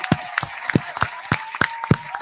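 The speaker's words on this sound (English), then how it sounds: "Clap for the kids." A few people in a small room clap loosely and unevenly for kids during a Milwaukee comedy talk, scattered single claps that are close and fairly loud, with speech between them.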